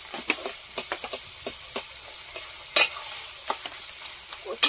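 Taro greens cooking with cumin paste in a pan are stirred with a spatula, producing a soft sizzle beneath a series of irregular scrapes and knocks against the pan, one sharper clank partway through.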